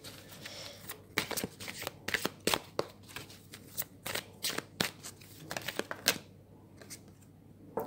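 Tarot cards shuffle close up in quick, crisp riffles and rustles with uneven bursts of papery snapping, a quiet room behind them.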